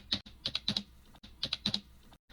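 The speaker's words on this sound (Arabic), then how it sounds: "بكل سهولة أكتب كلمة ماتريكس" Typing on a computer keyboard in Kali Linux: crisp, close key clicks in two quick clusters of four or five strokes with a short pause between.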